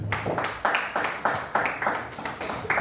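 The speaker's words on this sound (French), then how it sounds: "Acclamons tout pour la gloire de Jésus." A church congregation claps in unison at a steady, quick rhythm of about four claps per second, close and fairly loud, with no voices over it.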